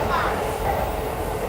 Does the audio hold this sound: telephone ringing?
no